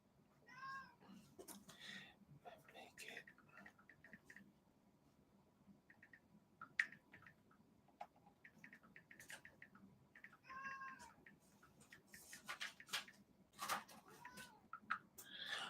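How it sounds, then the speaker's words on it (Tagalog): A cat meows repeatedly, short and scattered cries at close range, with quiet gaps between calls and faint background noise. "Kung naririnig yung meow-meow ng anak ko,"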